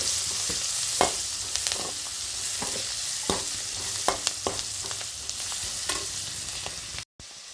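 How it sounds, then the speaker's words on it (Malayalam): Onions with turmeric fry in a pan for a cabbage stir-fry, a steady close sizzle broken by frequent light spoon scrapes and clicks, no voices, ending in a brief cut. "നന്നായി ഒന്ന് ഇളക്കി യോജിപ്പിക്കാം."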